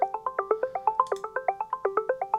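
A Spire synth preset playing a fast, bouncy arpeggio of short plucked notes in a steady rhythm, each note decaying quickly, clean and upfront with nothing else around it.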